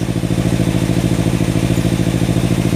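A Kawasaki Ninja 250 FI motorcycle engine runs steadily at idle nearby, a loud, even, throbbing putter with no voices over it.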